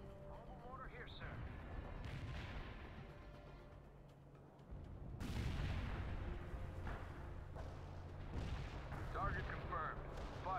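A mobile mortar unit fires during Soviet Assault gameplay in World in Conflict. Repeated heavy booms and rumbling blasts roll over a continuous battle din, with voices talking throughout.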